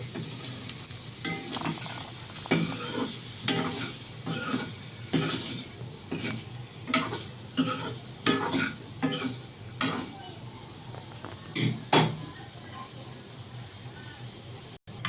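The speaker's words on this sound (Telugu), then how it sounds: "దీన్ని అలానే ఒక 2-3 మినిట్స్ ఫ్రై చేస్తే ఈ మసాలాలంతా దానికి పడుతుంది" Tofu frying and being tossed with masala in a pan, a steady sizzle broken by rhythmic loud scraping and knocking strokes of a spatula, close and prominent.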